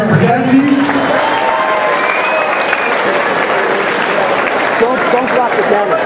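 A crowd at a hardcore cage fighting MMA event applauds and cheers for fighter Jesse, sustained clapping and shouting throughout with voices rising over the noise.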